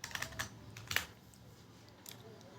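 Keys click on a computer keyboard in a few short, quiet bursts of taps, with a brief flurry early on, one sharper press near the middle and a lone tap later, over low room hiss.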